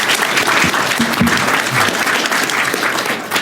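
An audience at a comics convention's new-talent panel at Thought Bubble 2019 claps steadily, dense applause filling the room for the whole moment, with a faint voice briefly audible underneath.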